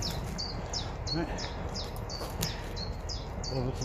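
Wild birds chirp outdoors near a wild camping spot where biscuit bits are put out for them, a series of short, bright, regular tweets over a soft steady background hiss.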